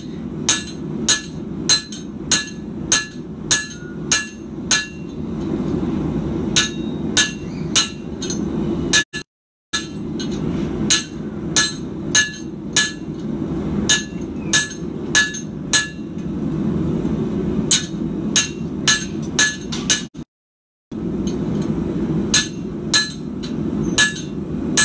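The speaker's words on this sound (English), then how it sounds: "you can see how I've hammered in a divot either side" A hammer strikes a steel billet being forged into a Criollo knife: sharp, ringing metallic blows fall in a fast, regular rhythm, close and loud, with two brief pauses between bursts.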